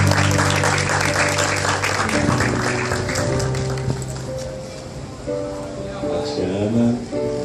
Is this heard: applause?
yes